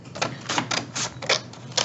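Scissors snip through paper in a quick series of about eight crisp, close cuts, each a short rasping burst, with no voices.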